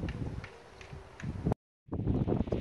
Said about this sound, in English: it's the evening and it's very windy